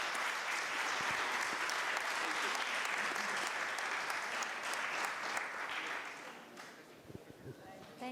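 An audience claps at a book launch on the women's movement in Pakistan. The applause is loud and dense, then dies away into scattered claps and faint voices.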